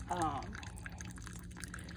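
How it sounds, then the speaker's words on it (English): Water pours into a large bucket of freshly harvested clay and dirt, a soft trickling and splashing that is faint and continuous. "So right now I transferred what I had harvested from one bucket into a bigger bucket, and I'm putting water in it"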